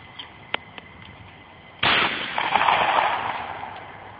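A single loud shotgun blast at an outdoor clay pigeon shoot rings out after a few faint clicks, followed by a long, fading echo.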